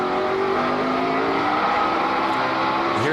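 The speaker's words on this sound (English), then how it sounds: "You hear Junior's engine just jumping in RPM. Spun the tires a little bit off the corner." A NASCAR stock car at the 2003 Subway 500 races by with a loud, sustained engine roar as its RPM jumps, its tires briefly spinning off a corner, and a faint swoop at the end.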